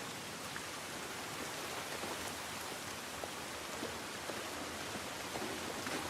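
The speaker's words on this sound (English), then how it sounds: "This rain ain't gonna do us any good." Steady, even rain falling in the video game The Last of Us, a dense hiss of drops spread across the whole clip with scattered small droplet ticks and no talking.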